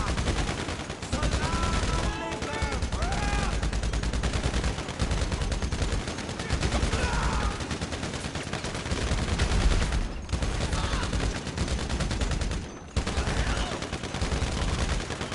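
Sustained automatic gunfire rattles through a GTA Online firefight in rapid volleys, with brief pauses and loud bursts and a steady battle din underneath.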